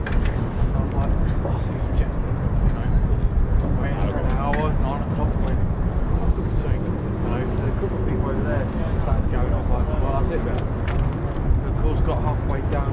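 A military jet at RAF Lakenheath, home of the 48th Fighter Wing, makes a very short takeoff, its loud broad engine roar sustained throughout while people talk over it nearby.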